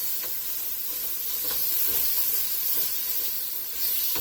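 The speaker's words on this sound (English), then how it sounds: "I'm going to saute the veggies a little bit." Vegetables sautéing in a pan over medium-low heat, a steady close hiss and sizzle with occasional soft stirring scrapes, continuous and moderately quiet with no talking.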